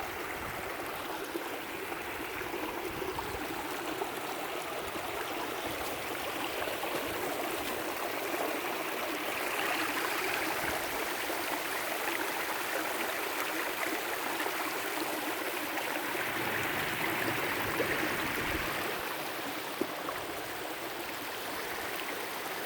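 Water from high beaver pools pours over the edges of a rock wall into rapids, a steady, full rushing and gurgling that stays loud and constant throughout with no voices.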